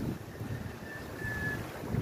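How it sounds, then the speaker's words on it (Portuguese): Strong wind during a cyclone on the coast at Florianópolis, a steady rushing buffet on the microphone with low rumble and a faint tonal whistle, no voices. "Temperatura 22 graus com bastante vento agora."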